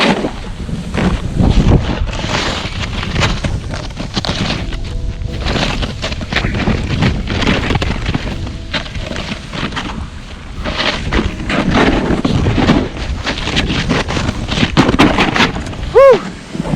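Skis carve over choppy chunder snow on a cold mountain at Beaver Creek, a loud, rough scraping and rumbling mixed with heavy wind buffeting against the microphone throughout.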